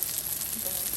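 Broccoli and mushrooms sauté in olive oil in a pan, giving a steady, close, hissing sizzle that runs unbroken throughout.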